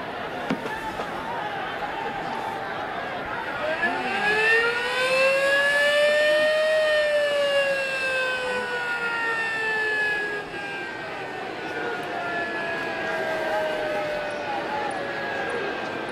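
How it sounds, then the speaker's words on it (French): A siren rises and falls in a long wail across a French racecourse at Cagnes, sounding to signal that a stewards' inquiry is open. It carries over the crowd's murmur and holds steady for most of its length. "La célèbre sirène cagnoise qui retentit sur le champ de course pour nous indiquer qu'une enquête est ouverte."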